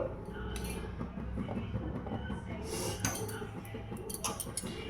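A fork clinks and scrapes against a bowl while cabbage balls are dipped in flour batter, producing light irregular metallic taps close by over soft kitchen background noise.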